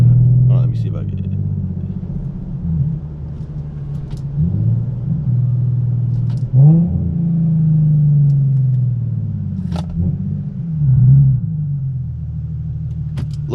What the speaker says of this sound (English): Little downshifts for y'all.